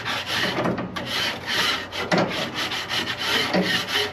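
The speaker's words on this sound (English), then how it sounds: "I'm just going to take a grate, scrape the top" A pellet grill grate being scraped: rapid repeated rasping strokes, close and fairly loud, alone without talk.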